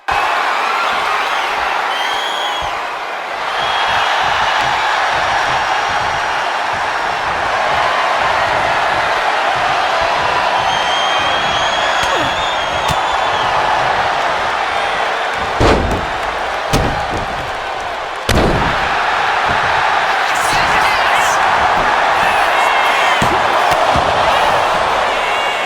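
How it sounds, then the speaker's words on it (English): A wrestling arena crowd at a SmackDown event roars continuously for about 25 seconds, loud and close, with occasional heavy thuds and slams from the ring cutting through the din. "This crowd is starting to feel it."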